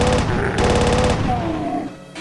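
Rapid automatic chain gun fire in the Doom-style game Valiant, a loud continuous stream of shots with brief pauses, plus faint game effects near the end.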